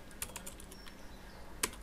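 Someone types on a computer keyboard: a few quick, faint key clicks in a short burst, then one more click after a pause, in a quiet room with no talk.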